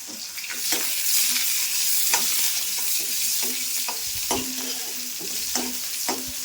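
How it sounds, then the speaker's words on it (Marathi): Long-cut onion slices fry in oil with a bright, continuous sizzle, while a spoon stirs and knocks against the pan at irregular intervals, close up and without speech. "हे कांदा, कांदा थोडंसं ब्राऊन होईपर्यंत थोडंसं तेलात फ्राय करून घेऊ"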